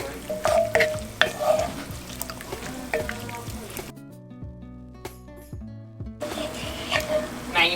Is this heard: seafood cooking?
yes